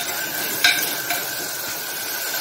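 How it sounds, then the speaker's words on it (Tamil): Chopped eggplant and other vegetables sautéing in a pan for tamarind kuzhambu, a continuous soft sizzle with a couple of brief stirring clatters near the middle. "இது கொஞ்சம் நேரம் இதிலே நல்லா வதங்கட்டும்"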